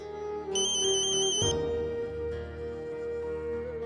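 A mobile phone ringtone chimes in bright repeating electronic beeps for about a second over soft background music in an indoor TV drama scene, followed by a low thump and lingering hum.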